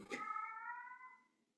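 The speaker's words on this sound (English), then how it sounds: "if you hear a cat in the background, that's Jill" A pet cat named Jill lets out a single drawn-out meow, clear and fairly close, with a bright harmonic tone that holds steady for over a second before fading out, and no voices alongside.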